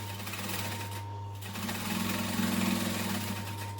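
A domestic sewing machine runs steadily close up, its motor whirring and needle chattering in a fast even rhythm as it stitches fabric about an eighth of an inch from the edge, briefly easing off before speeding up again.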